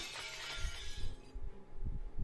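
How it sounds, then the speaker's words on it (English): Glass shatters in a video game scene near a school building, a bright crashing burst in the first second followed by a few duller low knocks and rattles trailing off, with no talk. "I hear the sound of glass breaking coming from the direction of the school building."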